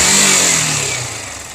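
Yamaha R15 V3 motorcycle engine running after a timing chain tensioner adjustment, a loud steady mechanical hum with a high whine that eases slightly in pitch and level.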